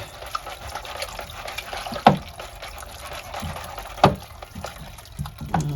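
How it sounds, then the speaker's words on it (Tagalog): Mineral water poured over sprouting mung beans for rinsing, a soft continuous trickle and splash with a few louder gushes, close by and without talk. "We're going to put this here in mineral water for rinsing."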